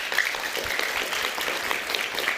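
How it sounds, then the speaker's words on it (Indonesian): A studio audience claps for Liga Akbar, a brief burst of moderately quiet, dense applause heard on its own. "Kita berikan tepuk tangan untuk Liga Akbar."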